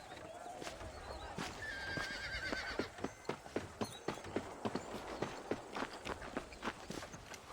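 Steady rhythmic clip-clop of horse hooves walking on hard ground in the video game Red Dead Redemption, with a brief whinny and faint background voices.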